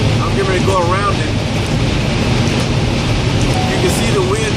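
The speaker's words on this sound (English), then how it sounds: "You can see the wind blowing the water, because it's raining too" Strong, buffeting wind roars continuously during a Utah wind storm with rain, heard from a vehicle on the road, a loud, unbroken rushing noise with a voice talking over it.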